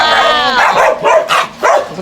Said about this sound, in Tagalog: Napakilala ko sa inyo ang aking pinaampong aso.